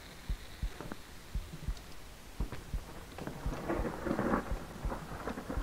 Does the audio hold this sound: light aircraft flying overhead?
no